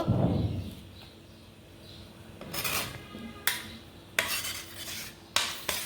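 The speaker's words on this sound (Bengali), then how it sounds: "এভাবে আমি সব কড়াই থেকে নামিয়ে প্লেটটাকে একটু এই যে এইভাবে খাঁচা প্লেটে আমি দিয়ে দিলাম" Cooked green mango is scraped from a wok onto a plate, a low rubbing rasp broken by several sharp metallic scrapes and clinks of a utensil against the pan, close and alone.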